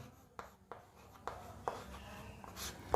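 Numbers are handwritten on a board, with faint scratchy strokes and a few sharp taps spread across a quiet background.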